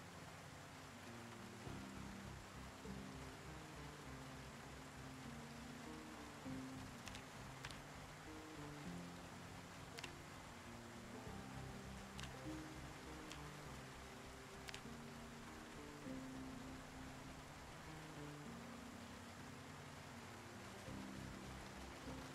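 Steady, soft rain falls in the survival game Project Zomboid, a dense even hiss with faint low rumble and a few brief sharp ticks, no voices.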